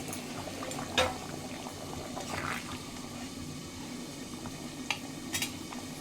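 A boal fish curry with potato, tomato and onion simmers in a pan, giving a soft, continuous bubbling hiss with a few sharper pops and stirring clicks, close and alone without talk.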